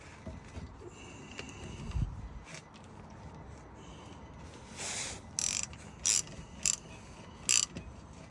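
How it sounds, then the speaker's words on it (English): Ratchet tightening a bolt on the rear brake of a Nissan Qashqai J11 during a pad change, a few short bursts of clicking near the end, close and moderately loud over a quiet workshop background. "Just turn the ratchet to tightening it."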